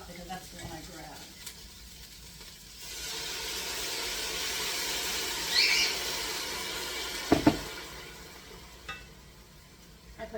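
Vegetable stock poured onto kale in a hot pan bursts into a broad, rising hiss that lasts several seconds and then fades, with a clank of cookware and a person speaking before and after.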